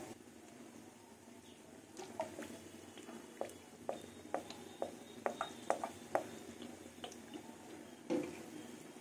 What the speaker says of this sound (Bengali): এবার সর্ষের তেল দিয়ে দেবো।